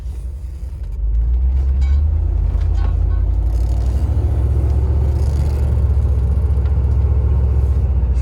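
A 1988 short-wheelbase Range Rover Classic's engine rumbles low and loud as it pulls away, with a steady droning hum continuing close by.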